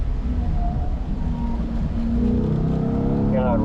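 A Corvette on a hot lap at Spring Mountain drones steadily from inside the cabin, engine note rising as it accelerates near the end, with voices talking over it.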